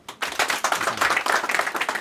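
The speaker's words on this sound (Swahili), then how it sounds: "Makofi kwake." Applause from mourners at a memorial celebration of a life, as an honorable guest is welcomed; after a brief quiet start, a crowd claps in a quick, uneven patter that holds steady to the end.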